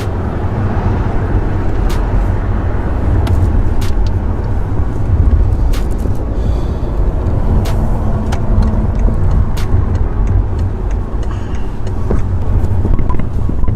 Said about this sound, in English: Welcome to this traffic in LA.